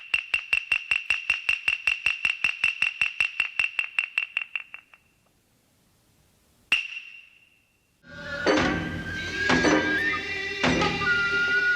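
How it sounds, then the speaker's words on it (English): Opening of a kabuki theater performance: sharp wooden clacks strike in a steady series that speeds up and fades, then one lone loud clack after a pause, followed by traditional instruments and plucked strings entering together. "I thought it might be fun to hear the opening of a kabuki theater"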